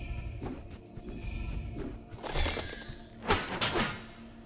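A bird calls in the video game The Tale of Bistun, a few soft cooing notes at a gentle steady pace, followed by louder rustling bursts and footstep-like thumps.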